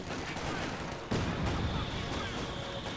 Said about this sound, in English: Mortars coming out. Mortars are out.